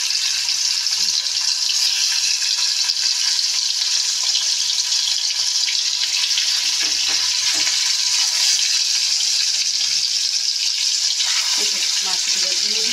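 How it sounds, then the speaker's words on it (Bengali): Fish fry in hot oil, a loud, steady, close hiss and crackle that carries on without a break, with occasional faint clinks and bubbling and no speech. "মাছগুলো দিয়ে দিলাম, মাছগুলো ভাজা হোক"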